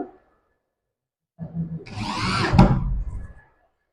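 A power screwdriver drives screws during decoration work with a single rising whir lasting about two seconds, close and fairly loud, ending in a sharp click, after a quiet stretch.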